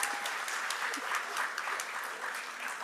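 Audience at a Black student graduation ceremony at Mt. SAC gives a round of applause, a steady, moderately distant wash of many hands clapping without speech.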